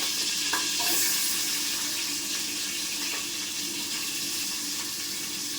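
Green chillies and large onions fry in a pan for a curry with bones and ash gourd, giving an even, continuous sizzling hiss close by with no talking.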